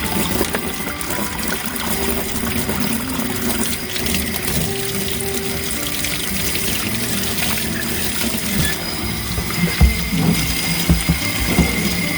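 Low-pressure 20 psi water spray washing a Seeburg 3WA jukebox, a steady hissing splash throughout with faint mechanical clicks and knocks near the end.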